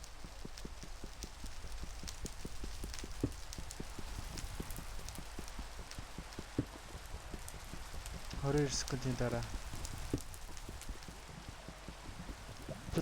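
Rain pours steadily in a video game, a dense continuous patter with a rhythmic clopping layered over it, while a person speaks briefly midway.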